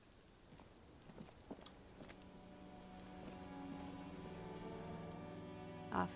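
Rain in the video game Disco Elysium, a quiet, steady patter of drops on a surface that builds slightly, with soft tonal music beneath and a brief louder knock near the end.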